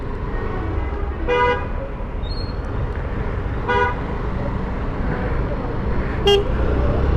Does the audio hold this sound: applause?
no